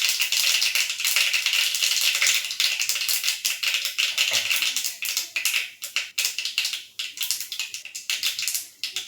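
Mustard seeds crackle in hot oil and ghee while tempering for dhaba-style dal palak: a dense, steady spatter of tiny pops and sputters that carries on without pause, close by, with no voice.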